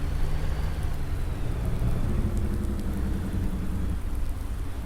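Steady rain in the video game Farming Simulator 19, falling in a constant, loud hiss that fills the scene, with low tractor rumble underneath and no talk.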